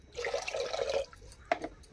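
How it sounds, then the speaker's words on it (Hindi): Water pours and splashes into a pressure cooker heating on a gas stove, a short soft gush followed by a few drips, quiet and close. "सेथिरे किछि पानी दबा"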